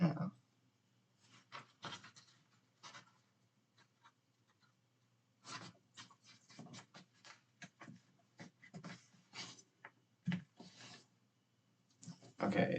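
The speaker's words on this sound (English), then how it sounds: "So we're going to go ahead and fold that in half." A sheet of standard 8.5 by 11 inch printer paper is folded in half for origami, giving soft close rustles and crisp creasing scrapes in scattered bursts with quiet gaps.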